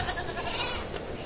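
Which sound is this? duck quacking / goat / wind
goat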